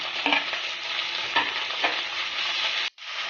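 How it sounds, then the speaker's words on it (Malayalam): Onion, green chilli and ginger-garlic paste fry in hot oil for an egg curry, giving a steady loud sizzle with a few scraping stirs and a brief drop near the end. "നമുക്ക് സവാള ഇട്ട് കൊടുക്കാം അതിലേക്ക് പച്ചമുളകും സവാള ഇട്ട് കൊടുക്കാം ഇഞ്ചി വെളുത്തുള്ളിയുടെ പേസ്റ്റ് ഇട്ട് കൊടുക്കാം"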